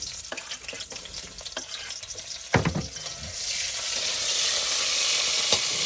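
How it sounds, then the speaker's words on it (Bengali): Onion goes into hot oil tempered with cumin: clattering and a sharp burst, then a louder, steady sizzle that swells and holds to the end. "ফোড়ন কিন্তু দিয়ে দিয়েছি জিরে, এবার দিয়ে দেবো পেঁয়াজ"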